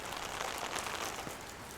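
Steady rain falls on a campsite on Cockatoo Island, a dense, even hiss of drops on surfaces with no pauses, close and moderately quiet throughout.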